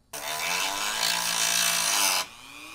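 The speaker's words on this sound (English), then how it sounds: "I'm going to Dremel out this little section of plastic right here for where it attaches." A Dremel rotary tool cuts out a small section of plastic on a mini Jeep, making a close, loud, high-pitched whine with a gritty edge that runs steadily for about two seconds, then stops abruptly.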